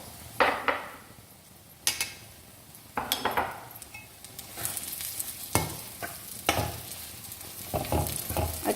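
Raisins and dry milk mixed into potato halwa in a pan, a spoon scraping and clinking against the metal in uneven strokes over a soft frying sizzle, close and moderately loud.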